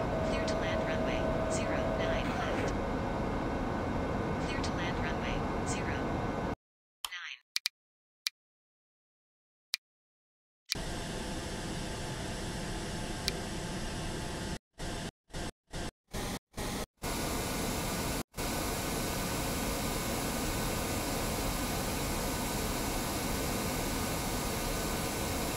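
Airbus A319 taking off in the RFS flight simulator: a broad, hissing jet roar fills the cabin, cut by a few sharp dropouts and gaps of near silence before the steady rushing noise returns.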